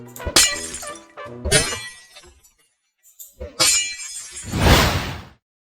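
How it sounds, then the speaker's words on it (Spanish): In the Minecraft video game with the Supplementaries mod, a thrown brick breaks glass, and crisp shattering crashes come in a few separate loud bursts with short gaps between them. "este mod me dio este ladrillito para que pueda romper el vidrio"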